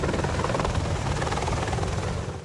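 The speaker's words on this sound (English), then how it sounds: "British Apache helicopters on the HMS Ocean prepare to go into action over Libya." British Apache attack helicopters aboard HMS Ocean before operations over Libya, with a loud, steady rotor roar and engine whine filling the clip without a break.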